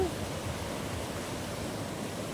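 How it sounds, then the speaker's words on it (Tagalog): Big ocean waves at San Juan La Union beach roar as a steady, broad wash of surf, moderately quiet and continuous with no distinct breaks. "Lalaki ng alon"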